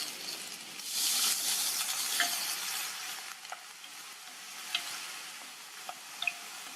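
Cut carrots tossed into a frying pan with slit green chili and curry leaves hiss softly while being stirred, a brief louder sizzle followed by a quieter crackle and occasional light scrapes.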